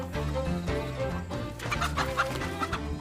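A white-feathered silkie chicken clucks steadily and loudly, up close, out on a farm. Other fowl call in a layered background.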